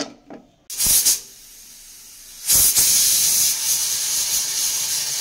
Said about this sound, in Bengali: তেলের মধ্যে গোটা জিরে আর তেজপাতা ফোড়ন দিয়ে দিলাম